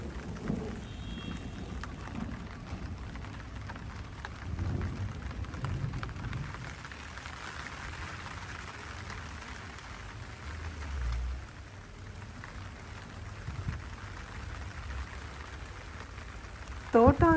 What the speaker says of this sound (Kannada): ಇವತ್ತಂತೂ ತುಂಬ ಮಳೆ ಬರ್ತಾ ಇದೆ.